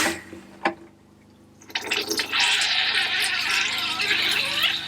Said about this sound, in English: turn the water back on and give it a flush or 2